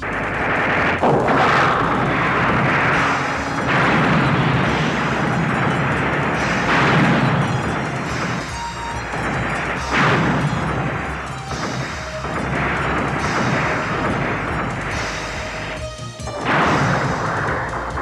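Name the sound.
main turrets firing in animated battle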